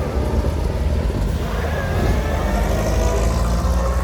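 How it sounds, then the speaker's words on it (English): A 1926 Willys-Overland Six vintage car engine runs loud and close at a hill climb, with a continuous throaty drone and rising mechanical roar throughout. "Wonderful Willis Overland 6, 1926."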